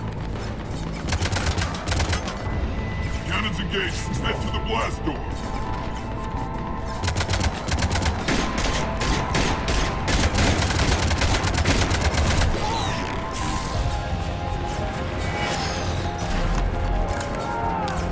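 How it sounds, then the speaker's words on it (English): Heavy cannon fire booms repeatedly through an alien assault during the Omega invasion battle in Mass Effect 3 Legendary Edition, dense loud blasts and crashes layered over constant combat noise with no pauses. "Cannons engaged."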